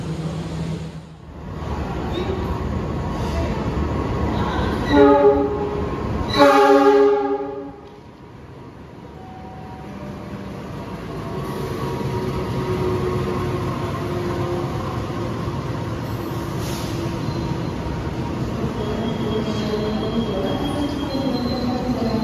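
The afternoon Malabar passenger train from Malang toward Bandung rolls past on the tracks, a loud, sustained rumble with squealing wheel tones and a brief horn-like blare early on, then a steady roar.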